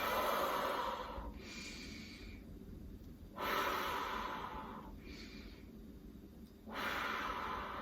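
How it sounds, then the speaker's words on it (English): Someone breathes in and out in an exaggerated way while tracing their fingers, slow loud airy inhales and exhales close to the microphone, three long breaths in a row. "they'll kind of breathe in and up and then out."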